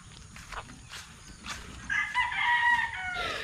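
A red Kelso gamefowl rooster crows once, close and fairly loud, in a drawn-out call after a few soft rustles and faint background noises.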